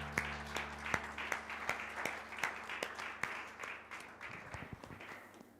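A church congregation applauds during a Sunday worship service, with steady clapping from many hands that fills the room, sharp individual claps standing out, and a low hum underneath.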